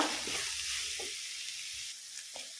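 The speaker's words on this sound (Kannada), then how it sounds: "ಇದನ್ನು ಸ್ವಲ್ಪ ಫ್ರೈ ಮಾಡುವ" Sliced carrot and capsicum fry in an oiled pan, a steady hissing sizzle with a few soft stirring scrapes, close and alone.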